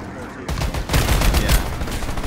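Loud gunfire in a Roblox shooter, rapid overlapping shots starting abruptly and rattling on in a dense burst for about two seconds.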